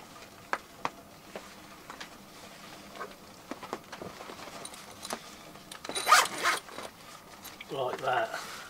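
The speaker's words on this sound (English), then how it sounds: "with a zip that I installed" A military arctic tent's zipper is pulled in a few quick rasping runs near the end, after some soft rustling and handling sounds, at a winter woodland camp.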